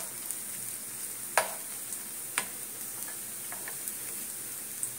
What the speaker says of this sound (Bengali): চলো আমি এভাবে ভেজে নিই